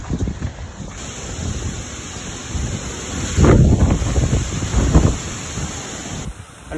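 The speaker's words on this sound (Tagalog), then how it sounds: "Pumunta ako sa bahay kahit malakas yung hangin at ulan" Strong typhoon wind buffets the microphone outdoors at night with a continuous roaring rumble that swells and gusts louder midway, with rain blended into the steady noise.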